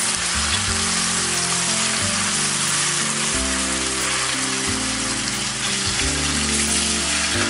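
Liver and onions fry and brown in a pan. A loud, dense sizzle runs without a break, and stirring shifts it in steps. No one talks.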